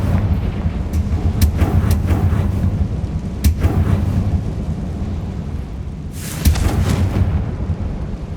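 A Confringo blasting spell explosion in Hogwarts Legacy: several sharp booming bursts over a rumbling game soundscape, with a larger blast near the end, loud and close with no talk.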